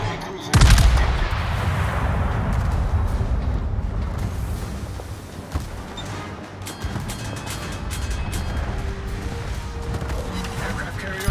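Naval gunfire in World of Warships: a loud cannon blast opens, followed by a continuous rumbling battle din of guns and explosions, with game voice announcements heard over it.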